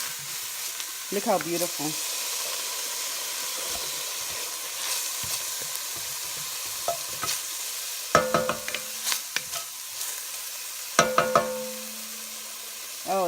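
Onion with a tiny pinch of salt sautéing in a hot pan during pot roast preparation, a steady sizzle with scraping stirs, while someone talks intermittently over it.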